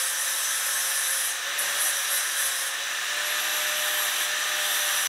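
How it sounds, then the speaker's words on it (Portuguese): Steady grinding of a flux-cored (gasless FCAW) weld bead with a grit-40 flap disc on an angle grinder in a metalworking shop, a loud continuous high-pitched whine with slight dips in load. "Vou esmerilhar com flap agora pra você ver como é que fica."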